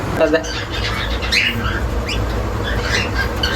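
A pet cockatiel kept with its hatched chicks gives a few short, sharp squawks and chirps near the microphone while a person talks over them.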